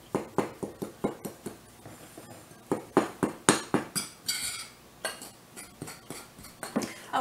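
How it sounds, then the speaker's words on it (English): A utensil stirs pancake batter in a bowl, giving a quick run of loud clinking taps against the bowl, close and alone. "I'm going to stir this up"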